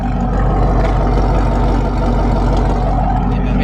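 A 2017 Camaro 2SS with a modified exhaust idles steadily, a deep continuous engine burble that stays loud and even throughout with no revving.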